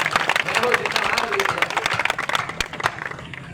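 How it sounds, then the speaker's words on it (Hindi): An audience at a Jhanda Mela kavi sammelan poetry gathering breaks into loud applause, a dense crackle of many hands close to the microphone that thins toward the end, with a voice talking over it. "एक बार जोरदार तालियां बजाइए।"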